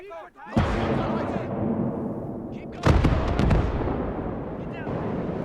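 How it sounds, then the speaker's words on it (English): Cheap artillery cannons in a WWII combat game fire a barrage: a loud, close boom opens the clip and a second heavy blast follows a couple of seconds later, each trailing into a rumbling roar, with a voice talking over it. "But that's why it's cheap artillery. Let's give it another barrage."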